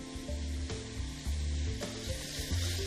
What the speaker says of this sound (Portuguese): um pouquinho de semente de erva doce que eu vou colocar agora para dourar junto com a cebola